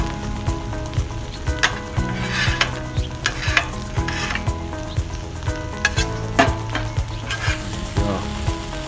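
Short ribs and fried rice stirred on a griddle: loud continuous sizzling with repeated metal spatula scrapes and clacks in an irregular rhythm, close and alone.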